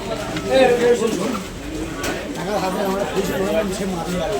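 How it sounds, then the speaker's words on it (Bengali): Pigeons coo and flutter at a crowded rainy-season pigeon market in Magrahat, their soft calls mixed under nearby people talking. "সুন্দর সুন্দর পায়রা এসছে"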